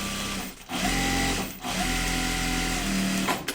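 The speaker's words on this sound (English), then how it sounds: "I'm just double stitching them" A sewing machine runs in short bursts while double stitching the lining pockets of a tote bag, its rapid needle hum stopping briefly twice between runs, close and clear.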